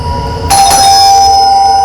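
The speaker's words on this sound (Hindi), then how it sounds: "गुड़िया कब से घंटी बज रहा है, सुनाई नहीं दे रहा है क्या?" An electronic doorbell chimes once, a bright ringing tone that rings out and lingers, close and loud.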